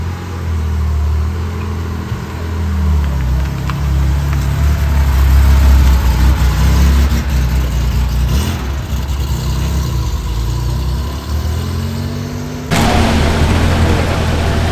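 Sports cars idle and pull out at a Cars and Coffee gathering: a deep, loud engine rumble close by, with low throbbing and revving swells, and the tone shifts near the end as another car moves off.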